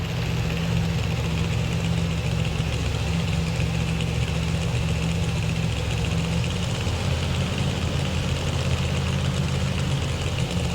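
A Chevrolet two-wheel-drive pulling truck idles at a 1992 NFMS truck pull in Louisville, Kentucky: a loud, steady, rumbling engine drone with a knocking edge that holds without a break.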